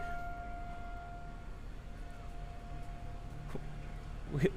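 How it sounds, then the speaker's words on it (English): A steady wailing emergency siren test drifts in the distance, faint beneath outdoor noise at a Great Lakes boat race, with a brief louder rustle near the end. "I think you guys are probably hearing the emergency sirens behind us"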